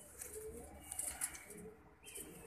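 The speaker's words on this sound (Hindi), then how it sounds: "कबूतर का बच्चा है" A young pigeon coos softly a few times, low and muffled, against a faint steady background hum.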